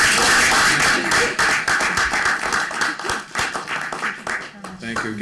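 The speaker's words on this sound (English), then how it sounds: "How about a round of applause?" Hand clapping from the audience at a school committee meeting, a brief scattered patter of claps that fades unevenly, with voices talking over it.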